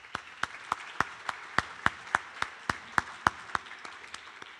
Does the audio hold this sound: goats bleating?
no